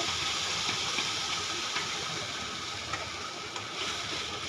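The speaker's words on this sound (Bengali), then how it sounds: "শুকনো লঙ্কা কালো জিরে ফোড়ন দিয়ে পটলের পেস্টটা দিয়ে" Pointed gourd paste hisses in hot oil tempered with dried red chilli and nigella seeds, a dense continuous sizzle that holds steady at close range.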